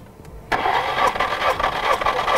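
Car engine with four cylinders cranks and starts during a compression test, a sudden loud burst of churning engine noise after a quiet moment, then a steady rough run close by.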